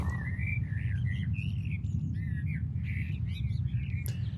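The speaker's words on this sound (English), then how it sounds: "When the ring mod effect wears off, what we should hear is that the birds have returned to normal" Bird chirps and squawky calls, metallic and warbling from a ring modulation effect, repeat over a steady low rumble, with a brief sharp click near the end.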